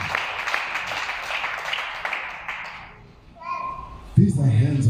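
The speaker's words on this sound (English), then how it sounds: "Can you clap hands?" Hands clapping together in a church fellowship gathering, a dense burst of claps for about three seconds before it fades and voices speak nearby.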